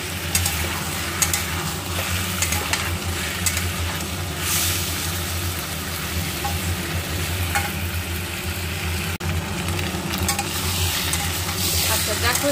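Prawns and pointed gourd sizzle and hiss in a hot pan while being stirred and sautéed, a continuous frying crackle with scraping stir strokes throughout and no one talking.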